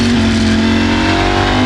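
A Ducati Streetfighter V4S motorcycle engine revs hard and loud through a gear change, a steady, close, buzzing roar with a sustained tone and no voices.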